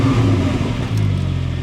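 A Porsche GT4 revs hard, loud and close, with its Cargraphic exhaust valve open giving a deep, throaty roar, briefly dipping before surging again.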